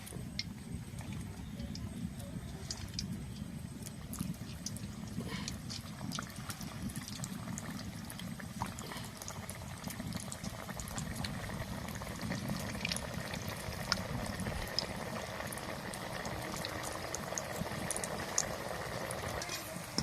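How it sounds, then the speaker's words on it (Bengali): Potato balls deep-fry one by one in hot oil, a dense continuous bubbling sizzle with scattered small pops, steady and moderately close throughout. "তেল ভালোভাবে গরম হয়ে গেছে, এবার এই বলগুলো এক এক করে আমি ভেজে নেব।"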